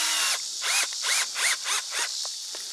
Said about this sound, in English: screwing the lid onto the tree